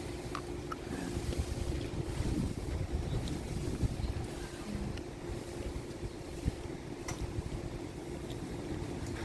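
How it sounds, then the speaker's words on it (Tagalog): Strong, steady wind from Typhoon Leon in Taiwan roars and buffets the microphone, a dense continuous rush with scattered small knocks and rattles, no voices. "Ayan, lakas ng hangin."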